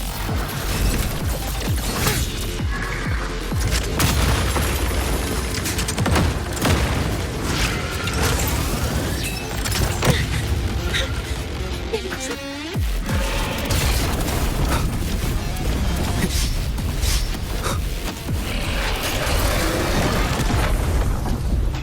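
Repeated heavy booms from an artillery barrage in the Wuthering Waves video game, dense, loud explosive thuds layered over a continuous rumble and mechanical clatter, with one sharp burst standing out midway.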